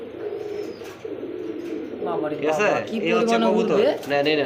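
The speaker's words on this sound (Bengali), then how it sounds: "দেখেন লং এর একটা কবুতর দেখছেন" Pigeons, including a long-type bird at a wholesale pigeon sale, coo in soft, repeated throaty rolls close by, partly under steady talking and background bustle.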